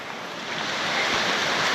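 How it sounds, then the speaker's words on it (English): A jungle river in Puerto Rico gives off a steady, broad rushing of flowing water that grows slightly louder over a couple of seconds, with no voices. "I can hear the water, so I know I'm getting closer."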